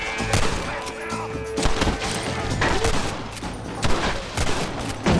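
Winchester rifle fire in the Western game Red Dead Redemption, a rapid scatter of sharp gunshots cracking repeatedly over a busy battle backdrop, loud and close, with overlapping distant shots.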